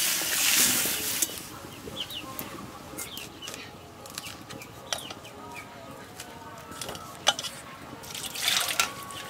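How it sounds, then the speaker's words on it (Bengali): Water poured into a pan of Bengali mustard fish curry with roe-filled fish and fresh eggplant, heard as a splashing pour followed by faint scattered drips and liquid sounds at close range in a home kitchen. "এবার জল দিয়ে দেবো।"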